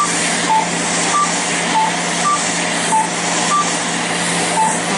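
A cold-air cooling unit blows during a Fraxel laser treatment on the face. It makes a loud, steady rushing hiss, and a short electronic beep repeats about every half second.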